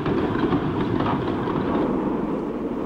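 A heavy 5,500-ton brown coal train running from an open-cut mine in Victoria, Australia, with a steady loud rumble and rolling wagon noise throughout, with no talk.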